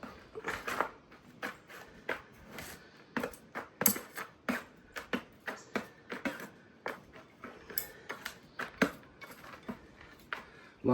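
Blood-and-bone fertiliser and compost worked by hand into potting soil while repotting a divided Monstera, heard as a quiet series of close crunchy scuffs and gritty rustles in irregular bursts.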